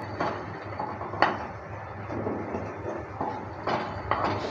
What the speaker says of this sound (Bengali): ঢাকনাটা তুলে নেওয়ার পর নেড়েচেড়ে নিচ্ছি